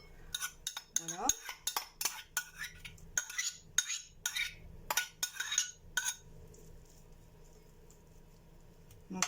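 Chopped onion spread around a tajine pot with a metal utensil for a beef and olive tajine, giving a run of sharp clinks and scrapes for about six seconds, then quieter faint stirring.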